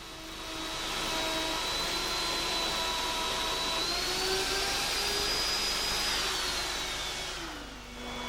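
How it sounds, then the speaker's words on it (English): A wood router guided by a housing jig cuts grooves, a steady loud whine with a slowly shifting pitch that runs throughout and sags briefly near the end. "The housing jig guides the router to make grooves of varying widths."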